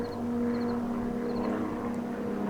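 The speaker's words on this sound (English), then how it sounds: "There's an airplane flying over" A propeller airplane drones steadily overhead above a hunting spot, a constant low hum holding across the whole stretch, moderately loud, with faint bird chirps and no talking.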